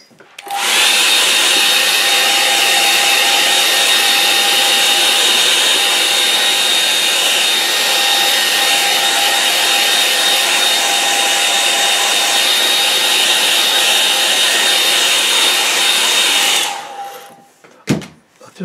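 A hair dryer blows loudly and steadily close by to dry a watercolour painting, a constant whooshing drone that runs unbroken for about sixteen seconds before cutting off, followed by a couple of brief knocks.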